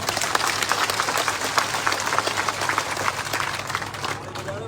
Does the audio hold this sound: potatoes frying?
no